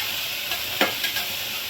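Chilli, ginger and garlic paste is stirred into a sizzling mixture in a pan, a soft continuous fry with a few brief scrapes and clinks of the spoon.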